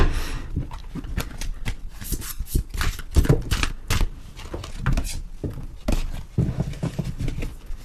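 Oracle cards being shuffled by hand, a close run of soft papery flicks and slaps with uneven rhythm and brief pauses, and no voices over them.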